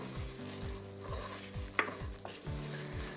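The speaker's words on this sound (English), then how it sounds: "And now we're going to add in our rice. And we just want to toast the grain." Risotto rice toasts in oil in a pan with a soft sizzle, while a spoon scrapes through the grains in a regular stirring rhythm, close and quiet, with a couple of light knocks.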